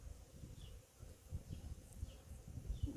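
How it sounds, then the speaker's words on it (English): A swarm of wild bees buzzing up close in New Zealand, a low droning hum that thickens and thins in uneven pulses, with faint scattered higher buzzes passing through. "Covered in bees here. Swarming."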